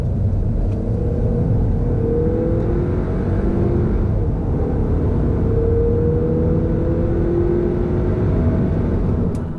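A 2018 Audi A3 2.0L quattro pulls hard through a 30-70 sprint, its engine rumble rising steadily and loud from inside the cabin, with road and wind roar underneath throughout.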